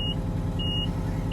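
A heavy equipment transporter truck cab's warning beeper sounds in short high repeated pulses, about one every half second, while air brake pressure builds over the low, steady rumble of the idling engine.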